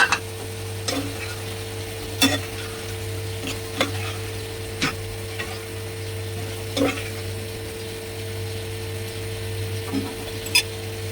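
Green chillies and tomatoes fry with spices in a pan for a snakehead fish curry. A steady soft sizzle runs under a low hum, broken by occasional sharp scrapes and taps as a spoon stirs the mix.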